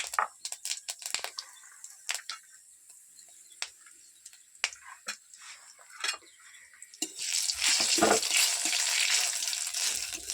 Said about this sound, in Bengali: পুরো ভাজা গেছে ফড়ংটা,